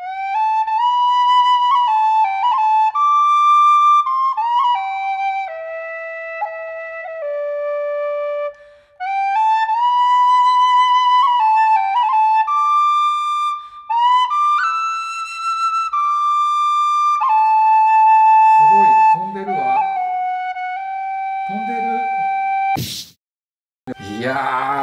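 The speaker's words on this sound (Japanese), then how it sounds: "このティンホイッスルっていう、" A tin whistle plays a bright, clear Irish-style melody for a long stretch, with ornamented note flips and steady phrasing, close and alone, ending with a few sharp knocks.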